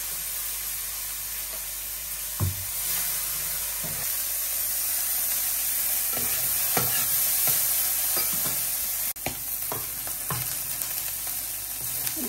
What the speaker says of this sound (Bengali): এই যখন সবজিটা ভেজে নেই, লবণ দিয়ে দিচ্ছি